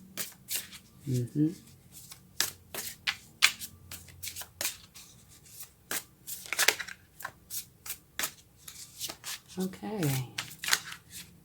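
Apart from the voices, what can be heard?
shuffling cards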